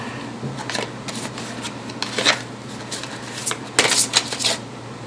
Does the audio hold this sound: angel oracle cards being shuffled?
yes